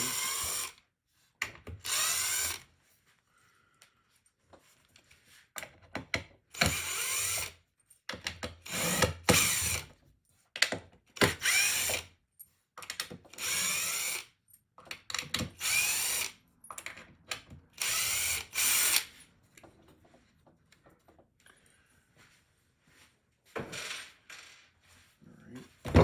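A power driver whirs in repeated bursts backing out screws that hold a mold down to a wooden base, close and loud, with short pauses between each screw.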